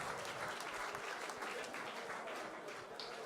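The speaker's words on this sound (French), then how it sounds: "On vous applaudit très très fort" Sustained applause from an audience at a festival awards ceremony, a dense, steady wash of many hands clapping at once with no break and no voices.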